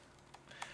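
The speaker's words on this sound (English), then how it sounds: "This isn't my keyboard." A few separate keystrokes on a computer keyboard, quick sharp taps spaced irregularly, close by and fairly quiet with no talk.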